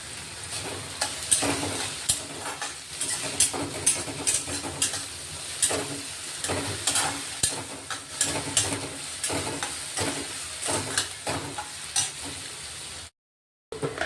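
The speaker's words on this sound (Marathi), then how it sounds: "थोडा कट केलेला लसूण टाकलाय, तोही आपण आता मस्त परतून घेतोय" Chopped garlic sautéing in a pan on a home stove, a steady sizzle and frying hiss broken by repeated scrapes of stirring, close and fairly loud throughout, with no talking.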